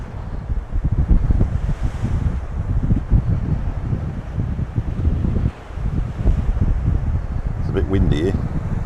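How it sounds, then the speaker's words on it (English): Strong coastal wind beside the sea caves of Lanzarote buffets the microphone in loud, gusty rumbles, with surf washing faintly underneath the whole time. "It's a bit windy here."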